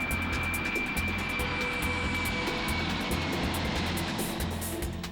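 Jet plane engine roaring in a steady, loud broadband rush with a pulsing low rumble, sustained without talking throughout.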